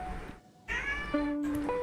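A cat meows loudly at close range, a drawn-out cry followed by a second shorter meow.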